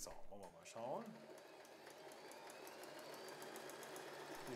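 A W6 N 1800 sewing machine stitches a rolled hem, running smoothly and quietly with a fine, steady ticking rhythm after a brief voice at the start.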